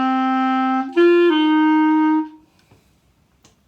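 A lone clarinet plays a short legato opening phrase of a song at mezzo forte, a few sustained notes changing pitch, clear and close, then fading to quiet room noise.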